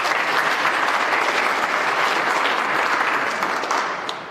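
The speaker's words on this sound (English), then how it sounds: "Let's give them another round of applause, please." Sustained audience applause at a bridge building competition, a dense, steady wash of clapping from a large crowd that fades slightly toward the end.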